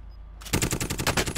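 Suppressed M16 firing in a video game: after a quiet moment, a rapid automatic burst of muffled shots in an even rhythm, close and fairly loud.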